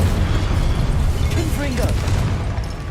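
Incendio fire spell cast in Hogwarts Legacy, a dense rumbling burst under battle noise with a short whooshing flare partway through.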